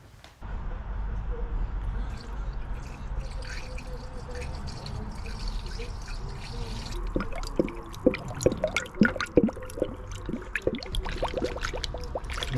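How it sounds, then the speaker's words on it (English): Coolant pours into the cooling system of a Honda Civic Type R FN2, first as a soft steady trickle and then as a gurgling, bubbling flow with irregular glugs, fairly quiet and close. "now all I need to do is fill this up with the coolant"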